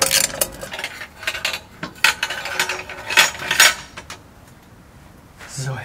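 A ratchet wrench with a long socket loosening the exhaust header on a 2020 Yamaha XSR 700 motorcycle, with close metallic clicks and clanks in irregular bursts that fade to near quiet at the end.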